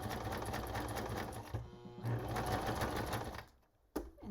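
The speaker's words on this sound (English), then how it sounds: "I'm going to switch it over to a zigzag. And then I'm going to just stitch down." A sewing machine runs a zigzag stitch on paper in a dense, rapid mechanical whir, stopping briefly partway through and then resuming.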